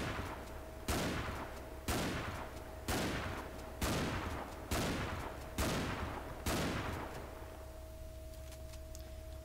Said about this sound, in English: last but not least, the shotgun.